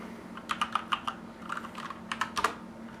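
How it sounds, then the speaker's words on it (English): Keys clatter on a Corsair K70 LUX RGB mechanical keyboard with red switches, a close burst of quick taps in uneven clusters over a low steady hum. "it is a keyboard, so you expect it to type well"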